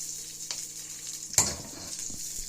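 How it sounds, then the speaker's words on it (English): Stir-frying in coconut oil, a soft steady sizzle with a single louder scrape or clatter partway through, close and alone without talk. "this is a stir fry"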